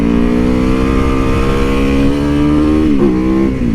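Motorcycle riding on a road on a chilly winter day, its engine loud and close with a steady droning hum, a brief shift in pitch near the end.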